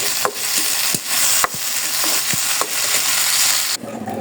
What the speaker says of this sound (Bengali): এখন এটা আমি জিরাটা আমি তেলে ভালো করে ভেজে নিচ্ছি